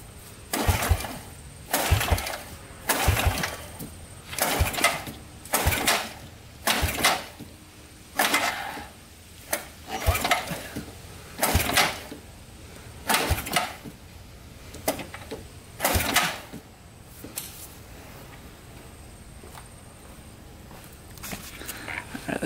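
An ATV engine cranks over repeatedly with the throttle held open during a compression test, giving a steady series of bursts about every second, close and loud with no one talking.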